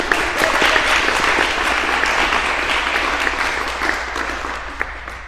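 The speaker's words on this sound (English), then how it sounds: "Let's give him another round of applause." An audience at a temple gathering breaks into a warm round of applause, thick overlapping clapping that gradually thins and fades toward the end.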